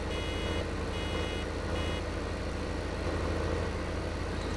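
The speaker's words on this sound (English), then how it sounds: "You hearing that beeping sound?" Reversing beeps from a farm vehicle in Farming Simulator 15, a steady repeating electronic beep over a continuous low engine idle, loud and close throughout.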